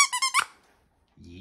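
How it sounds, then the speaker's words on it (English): A squeaky dog toy lets out a quick run of high, bright squeaks at the start, then goes quiet before a voice begins speaking. "I put a doggy squeaky toy"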